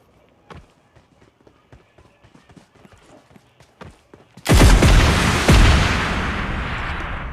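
Gunfire in a mobile battle royale game, a string of sharp, fairly quiet shots in rapid rhythm, then a sudden loud booming blast that rumbles on, with a voice commenting in places.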